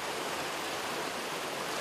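Steady rushing water at a sewage treatment plant, a continuous broadband flow with no pauses, fairly quiet and even throughout, with no voices.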